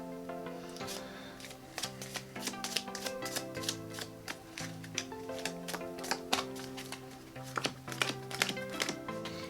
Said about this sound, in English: how you retain the top and bottom stock with the Erdnase overhand shuffle